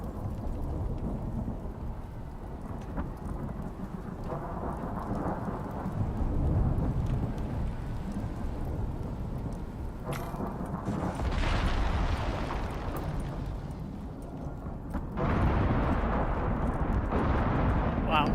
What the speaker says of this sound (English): that's a heck of a lightning storm you got going on over there